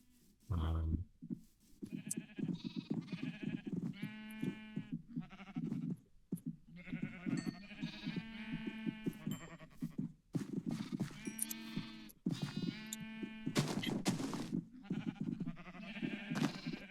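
Sheep in the Minecraft video game bleat repeatedly in short, nasal cries throughout, some overlapping, with steady game ambience and a few clip-clop steps between calls.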